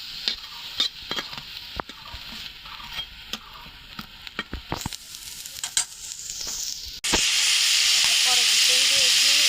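Cooking oil in a frying pan on low heat for lentil fritters sounds like crackling sizzle with quick pops, then jumps to a loud, steady hiss partway through, close up, with no talk.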